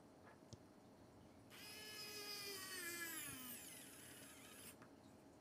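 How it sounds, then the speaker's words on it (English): A power driver sinks screws into the metal ends of a bag strap, giving a thin rising whine that runs for about three seconds, close and fairly quiet, with small clicks before and after. "I can show you the view as it's going, the screws going in"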